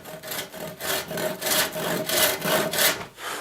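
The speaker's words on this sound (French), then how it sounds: "Donc à la scie à main, ça va très bien, hein, même opération." A hand saw rasps through wood boards for a garden planter box in regular back-and-forth strokes, about a dozen, close and clear with no voices.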